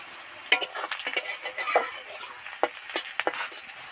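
Spices and onion fry in a pan for a jackfruit curry, heard as a soft sizzle under repeated clinks and scrapes of a metal spoon stirring against the pan, close and fairly quiet, without talking.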